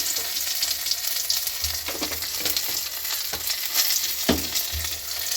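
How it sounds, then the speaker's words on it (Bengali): Bay leaf, whole cumin, small cardamom and cinnamon fry in hot oil with a steady, close crackling sizzle and a few soft knocks of a utensil against the pan. "গরম তেলে তেজপাতা দিয়ে দিলাম, গোটা জিরে দিয়ে দিলাম, আর ছোটো এলাচ দারচিনি দিয়ে দিলাম"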